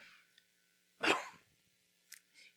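A single sharp cough from a preacher during a sermon, close and fairly loud, followed by a couple of fainter short throat sounds in a quiet room.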